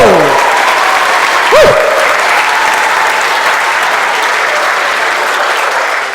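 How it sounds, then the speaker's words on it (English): Warm, dense applause from the audience at a music conservatory orchestra concert, a loud, sustained wash of clapping that holds steady throughout with a brief whistle or cheer early on. "can we please give another warm round of applause for 5th and 6th grade?"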